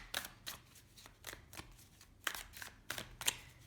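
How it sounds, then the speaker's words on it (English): Tarot cards shuffled by hand in quick, crisp riffling bursts, about ten short papery flicks spaced irregularly, close and fairly quiet with no talk. "Let's pull one final card, please, for this person."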